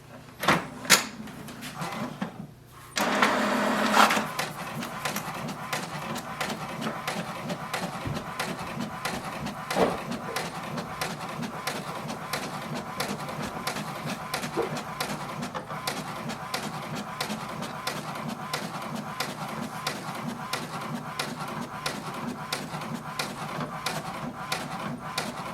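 An HP DeskJet 2855e inkjet printer prints a document. A brief mechanical whir and paper feed open the clip, followed by a long run of quiet, rhythmic ticking as the print carriage moves back and forth.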